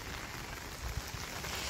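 Light unseasonal drizzle on the Konkan coast of Sindhudurg makes a soft, steady hiss, with a few low thuds of drops on a surface midway and no voices.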